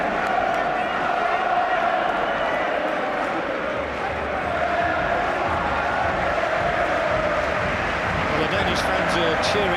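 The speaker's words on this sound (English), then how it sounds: "Fans are cheering their team on now." Turkey football fans at a Euro 96 match against Denmark keep up a loud, continuous stadium roar with chanting swells, heard in full broadcast coverage under a commentator's voice.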